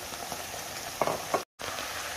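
Chicken fries with spices in a pan, a steady close sizzle with two brief stirring scrapes and a short cut to silence midway; no talking.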